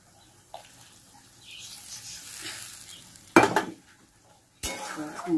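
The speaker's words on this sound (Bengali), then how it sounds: "মশলাটাকে ভালো করে একটু কষিয়ে নেব" Salted spice masala for an egg omelette curry fries quietly in a pan under a soft, low sizzle, broken by two sharp bursts of spoon scraping and clattering against the metal near the end.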